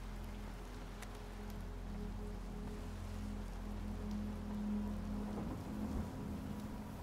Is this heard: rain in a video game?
yes